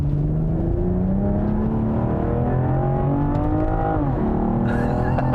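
A 2021 BMW M440i xDrive engine pulls hard with a steady rising drone, climbing in pitch through the gears, loud and continuous with a brief shift near the end.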